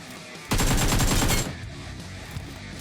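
An AK rifle fires in PUBG Mobile: one loud, sustained automatic burst of about a second, then quieter background game ambience with no talking.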